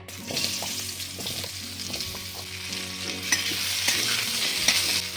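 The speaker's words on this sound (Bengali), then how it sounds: "ওই তেলেই আমি আলুগুলো দিয়ে দিচ্ছি।" Potatoes sizzle in oil left over from frying cauliflower, a close, steady hiss that swells louder toward the end, broken by light clatters of stirring.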